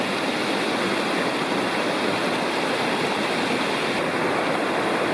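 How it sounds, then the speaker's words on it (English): Steady broadband rush of a large mountain creek flowing through forest near Rocky Fork in the Tennessee hills, continuous and close with no breaks. "The creek is still pretty big up here."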